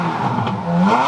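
A Ferrari engine with a newly fitted exhaust, cold starting, revs up briefly, a raspy exhaust note rising in pitch over about a second, close and loud.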